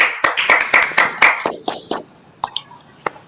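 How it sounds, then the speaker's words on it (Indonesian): Children in a classroom break into quick rhythmic clapping for a few seconds, then it trails off into scattered soft taps and a faint voice. "berikan aplaus anak-anak"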